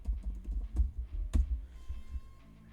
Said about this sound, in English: Next, type in taskbar settings.